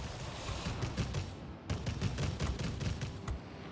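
Twin 30 mm aircraft cannons firing on a LaGG-160 fighter in World of Warplanes, rapid bursts of heavy thudding shots in two long strings separated by a brief pause, fairly quiet and without talk.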